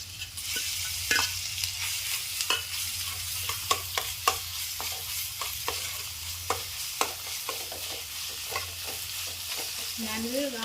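Sliced onions frying in a pan with garlic ginger paste for a chicken curry, a soft steady sizzle broken by repeated sharp scrapes and knocks of a spoon stirring, no one speaking.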